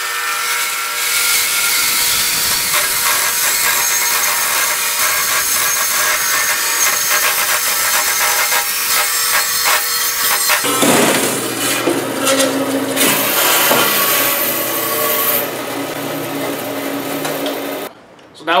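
A bandsaw cuts through lumber with a steady, loud broadband whine and rasp. The tone shifts partway through as the blade works deeper into the wood, then the cut stops abruptly near the end.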